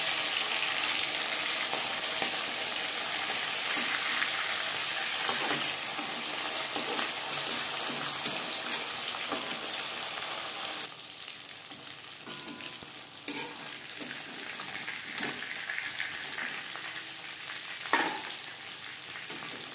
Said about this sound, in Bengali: বোয়াল মাছ ফাটে সাবধানে ভাজতে হবে।